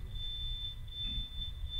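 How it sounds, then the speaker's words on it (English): A door-open alarm sounds a steady, high electronic tone that holds unbroken through the whole moment, fairly faint beneath a low room rumble, with no talking over it. "That is the door that has been left open, not a fire alarm."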